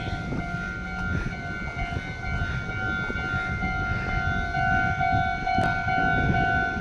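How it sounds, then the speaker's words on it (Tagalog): A steady train horn or warning tone holds over rumbling rail noise, continuous and fairly loud, as a Meitetsu train draws near in Japan. "may darating na tren guys"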